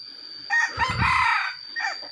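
A wild jungle fowl hen gives a few short clucking calls close by, in separate bursts over a faint, steady high insect-like drone.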